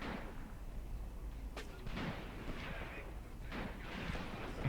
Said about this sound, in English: Throwing grenades at the advancing Germans.